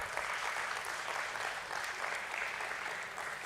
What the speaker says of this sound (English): Let's give the entire team a round of applause.